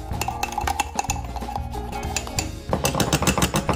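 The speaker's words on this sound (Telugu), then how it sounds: "బట్ నేను స్పూన్ తో చేస్తున్నా. ఇట్లా బాగా ఫోమ్ వచ్చేటట్టుగా విప్ చేసుకోవాలన్నమాట." A spoon whipping dalgona coffee mixture in a cup, rapid continuous rhythmic clinking and scraping close up, growing faster and busier toward the end, with no talking.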